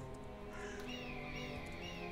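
A crow caws in the Might and Magic 7 video game, a faint raspy call over a steady game-music drone, no talk.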